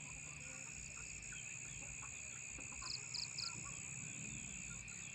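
Chickens and small chicks cluck faintly in the distance at a rural Thai home around dusk, beneath a constant high drone of insects.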